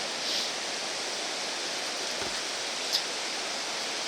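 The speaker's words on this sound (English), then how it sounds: "Tons of waterfalls in this park." A waterfall in Yoho National Park trickles and rushes as a steady, even wash of water noise, continuous and moderately distant, with no voices.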